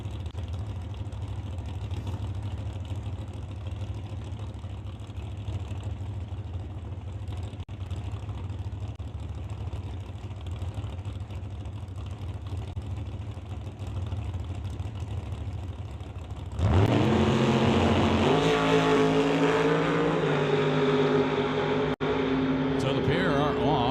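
A 1996 Cutlass drag racing car at a West Coast outlaw drag event launches with a sudden loud, sustained engine roar, preceded by a long stretch of steady rumbling track ambience and crowd noise.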